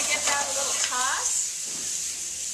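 Onions, celery and mushrooms sautéing in a pan for green chile Philly soup: a soft continuous sizzle under a brief spoken voice at the start, fading to quiet frying.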